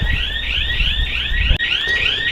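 Building security alarm going off in a loud, steady electronic wail with repeating rising sweeps, continuous throughout and close by, with no talk.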